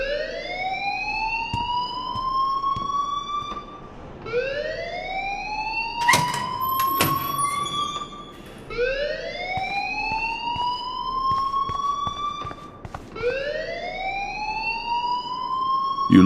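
A school fire alarm in the video game Life is Strange wails in repeated rising sweeps, loud and close, cycling about every four seconds with brief sharp clicks between sweeps.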